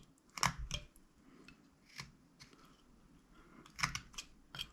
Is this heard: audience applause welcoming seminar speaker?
no